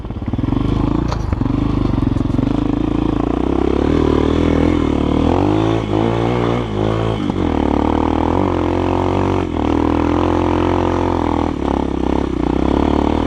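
A GEON X-Road 250 PRO enduro motorcycle engine runs loud and close throughout, with steady droning and rising and falling revs on an off-road ride.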